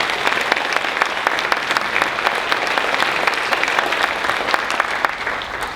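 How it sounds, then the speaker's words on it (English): A banquet audience applauds award recipients at an annual chamber of commerce meeting, with steady, dense clapping from a large room that holds evenly throughout. "How about another round of applause for all of our award recipients"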